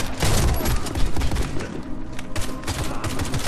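Rapid gunfire from a Saiga bullpup in a video game, a dense, loud burst of repeated shots with short gaps that runs almost the whole time, with no voices over it.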